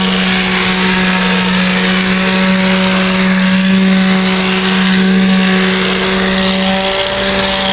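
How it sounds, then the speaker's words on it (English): Sanding a coat of chalkboard paint with 220 grit sandpaper gives a steady, close, loud abrasive hiss with faint tonal hum, running without talk. "we need to sand it down. We're just using the 220 grit sandpaper just to give it a smooth finish"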